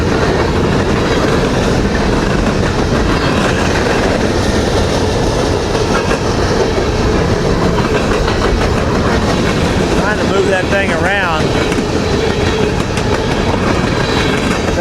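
A combined CSX freight train rolls past close by, with steady loud rumble and rail clatter filling the whole stretch, a brief wheel squeal near the end, and someone speaking briefly over the noise.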